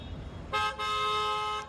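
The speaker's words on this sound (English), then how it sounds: "Traffic congestion in downtown is making you late for work" Car horns blare in downtown traffic congestion, one long sustained honk following a short blast, loud and close with no talking.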